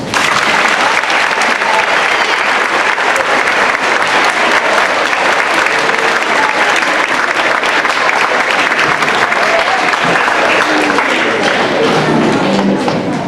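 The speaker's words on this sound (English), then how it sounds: "Please join me in thanking our 8th graders with a round of applause." A school audience applauds eighth-grade students at a stewardship day event, with loud, dense and sustained clapping that holds steady for over thirteen seconds amid crowd noise.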